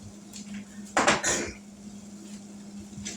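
Pots and utensils cleared off a kitchen stove, a brief burst of clattering metal clanks and scrapes in the middle over a steady low hum, close and fairly loud.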